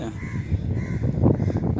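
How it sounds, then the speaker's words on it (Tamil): Crows caw around a spot where palm fruit was left out to dry, harsh repeated calls mixed with a loud low rumble and handling noise close by. "ஏகப்பட்ட காக்காய்ங்க வந்து அந்த இடத்துல இருந்தது"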